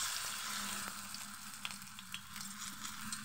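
Whole pumpkin flower fritter frying in hot oil, giving a steady low crackle with scattered small pops and sizzles throughout, soft and close, no voices.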